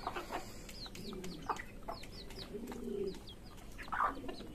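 Pigeons coo softly with low repeated calls while other birds chirp and squawk nearby around a home dovecote, faint and close.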